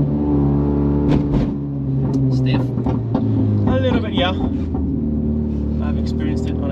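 A Renault Megane 3 R.S. hot hatch driving a lap, its engine humming and revving in a steady, close in-cabin drone with shifts and throttle changes, while a voice talks over it.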